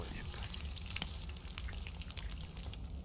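Meat sizzling as it fries over a fire in the video game DayZ, a faint, steady crackling hiss with small pops, heard alone and quiet throughout.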